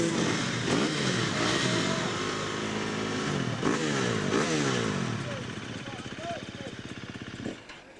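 Race engines at a tong motorsport event idle and rev loudly together, then die away one by one toward the end, leaving a quieter rumble with talk underneath throughout.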